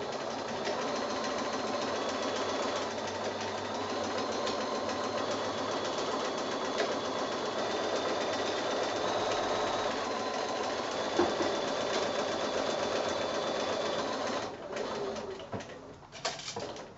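Sewing machine doing free-motion quilting on a quilt, a steady rapid mechanical whirring and stitching that runs continuously and tapers off near the end.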